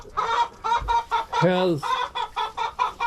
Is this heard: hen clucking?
yes